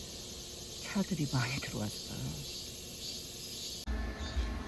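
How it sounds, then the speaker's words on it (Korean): Cicadas keep up a thin, steady high buzz around 5:30 on a summer dawn at a car-camping spot, running continuously beneath a short stretch of someone speaking. "매미 소리 들으니까 덥기 시작한다"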